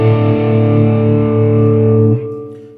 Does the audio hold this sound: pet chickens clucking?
no